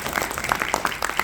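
A brief burst of audience applause at an animation fan expo panel, a dense close patter of clapping hands lasting about a second.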